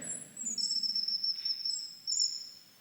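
Thin, high chirping trills repeat in short bursts against a quiet background, like crickets singing nearby.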